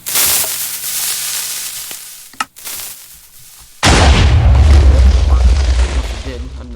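A long-range TNT cannon in Minecraft fires with a sharp short crack. A louder, sustained rumbling explosion follows, heavy in the low end and crackling for several seconds.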